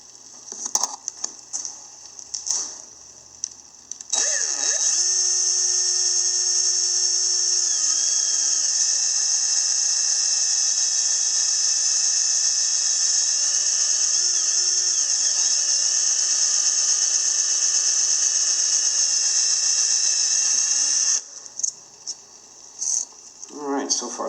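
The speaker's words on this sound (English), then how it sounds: "when you're drilling next to these holes, right next along those lines, you've got to be extra careful" A power drill bores holes through a plexiglass sheet for a mini chess board, a steady high-pitched whine lasting most of the clip, with shorter bursts and clicks before and after.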